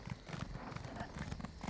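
Faint, rhythmic hoofbeats of a horse clip-clopping at an even pace in the video game Elder Scrolls Online, quiet and continuous with no talk over them.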